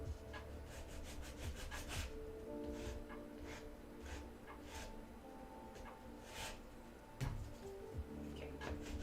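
Sanding a cosplay armor piece with 120 grit sandpaper: quiet, repeated rough rubbing strokes in an uneven rhythm, close and soft, with occasional light knocks.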